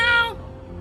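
A stray kitten gives one short, loud, high meow close by, fading out against quiet background noise.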